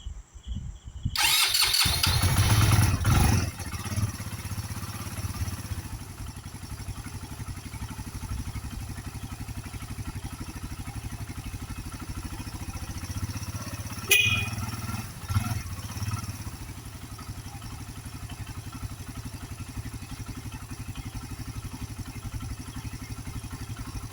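A Thunder 125cc motorcycle converted to 150cc cranks and fires up, then settles into a steady close idle with a brief clatter partway through, no talking over it.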